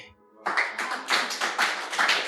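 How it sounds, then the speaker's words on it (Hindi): Audience at a Hindi poetry recital claps in several short bursts of applause, fairly close, rising and falling in uneven waves after a brief quiet start. "आप लोगों की तालियां कमज़ोर है"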